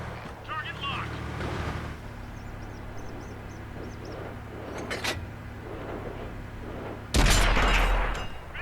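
A tank cannon fires in World of Tanks, console edition, during a Tier X medium tank match: one sudden loud blast near the end, over steady engine rumble and scattered faint game sounds.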